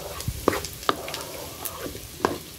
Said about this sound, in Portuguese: Vou dar uma fritada nessa carne.